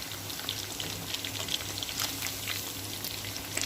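Chicken pieces for chicken biryani frying in oil, a steady close crackling sizzle with scattered pops and spatters running throughout, with a faint low hum underneath.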